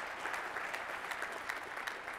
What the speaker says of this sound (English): Clap your hands if you've met somebody new